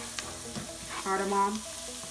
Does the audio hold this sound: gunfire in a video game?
no